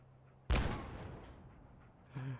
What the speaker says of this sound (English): Have another grenade.